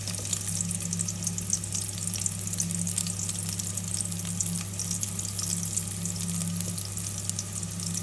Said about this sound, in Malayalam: നമ്മുടെ എണ്ണ ചൂടായി വരുമ്പോഴത്തേക്കും നമുക്ക് കുറച്ച് ചെറിയ ഉള്ളിയും അതുപോലെ 2 പച്ചമുളകും കൂടെ അരിഞ്ഞത് ചേർത്ത് കൊടുക്കാം.